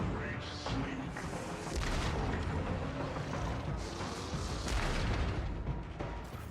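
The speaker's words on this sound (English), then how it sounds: "Grenades and stuff." Grenade blasts erupt in the Warhammer 40,000: Rogue Trader video game, with heavy booming bursts near 0.7, 2 and 5 seconds over a constant loud, dense wash of battle noise.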